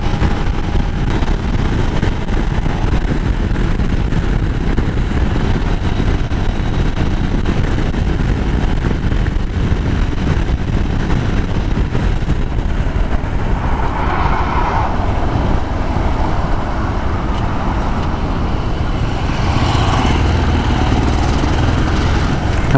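An older Yamaha Ténéré 350 motorcycle ridden at speed on a road, with a continuous engine drone and heavy wind rush close to the rider, rising slightly in pitch in places.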